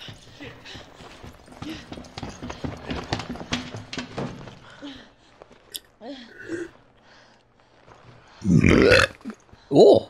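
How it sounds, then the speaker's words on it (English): A character in the video game Resident Evil 5 lets out two loud, close burps near the end, following a stretch of scattered clattering game sounds and quieter noises. "I got a burp."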